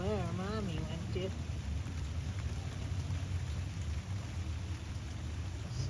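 Steady rain falls outdoors around a small white kitten sitting out in the wet, a continuous close, soft hiss with a short wavering tonal cry at the start.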